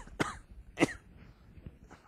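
Two distinct coughs close to the microphone, a short pause between them, then a fainter throat sound and quiet room.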